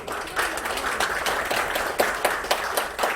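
An audience applauds at a public talk, steady dense clapping with sharper individual claps standing out near the end.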